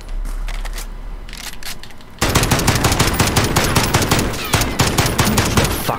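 Rapid bursts of automatic gunfire fired through a wall in Call of Duty: Modern Warfare, loud and dense, with sharp cracks packed tightly together after a quieter opening of about two seconds.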